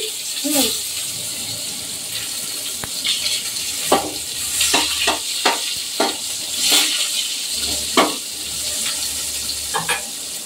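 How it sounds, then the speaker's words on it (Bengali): Fish fries in a pan with black cumin and chopped onion, a steady close sizzle under repeated sharp scrapes and taps of a spatula on the pan, with faint speech in the background. "আমি একটু কালো জিরে দিয়ে দিলাম মাছটার মধ্যে, সামান্য একটু কালো জিরে, আর দিয়ে দিচ্ছি একটু পেঁয়াজ কুচি"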